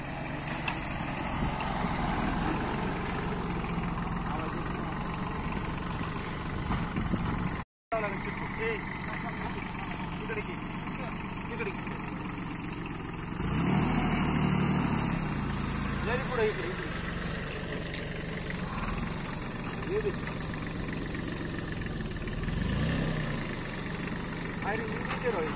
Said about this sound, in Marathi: त्याच्यासाठी हे ट्रॅक्टर ओढण्यासाठी 26 HP फार्म टॅक येत आहे आता आपल्याकडे